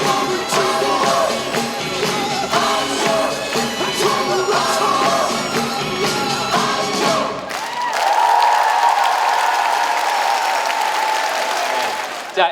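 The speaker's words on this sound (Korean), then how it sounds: "와우, 박수!" A large lecture audience applauds loudly for a speaker's entrance, with cheers and whoops in the dense clapping, then the sound shifts into a sustained roar that fades near the end.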